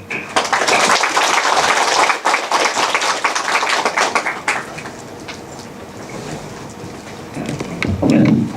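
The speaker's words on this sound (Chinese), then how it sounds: "现在让我们以热烈掌声，有请我们的刘院长为大家分享他的经验。" Audience applause fills a lecture hall at a Chinese classics teacher-training seminar as a dean is welcomed to the stage. Dense, loud clapping runs for several seconds, then thins into softer scattered claps.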